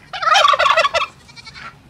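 Turkeys gobble in a loud, rapid burst close by on a farmyard where ducks and turkeys are fed grain, the rattling call lasting about a second before trailing off into softer gobbles.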